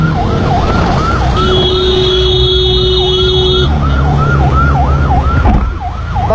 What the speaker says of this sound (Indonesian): Lihat saja bagaimana mobil ambulan ini kesulitan untuk menembus lalu lintas